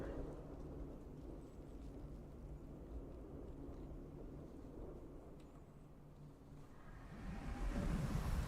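Thunderstorm ambience in the video game Ghost of Tsushima: a steady low rumble of wind and rain with rolling thunder that swells louder near the end, with no talking.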